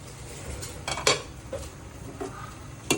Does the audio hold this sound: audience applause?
no